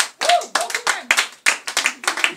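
A church congregation at a Sunday testimony service claps in acclamation, loud rhythmic bursts of hand claps in a quick repeated pattern, close and strong with short gaps between phrases.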